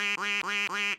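Three loud, close duck quacks come in quick succession as a sound effect, each a bright nasal honk, with no voices.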